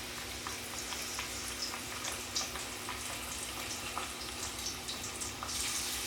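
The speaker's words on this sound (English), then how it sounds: "As you put fish into fry" Fish fillets fry in hot oil, giving a steady crackling sizzle with scattered pops, heard close and continuous without any voices.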